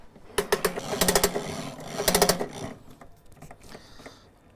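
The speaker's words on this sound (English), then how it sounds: "Now that's all the hose pulled out" A 10–20 m garden hose being drawn out of its automatic reel, giving rapid ratcheting clicks in two dense bursts, then softer scattered clicks as the pulling slows, close and alone.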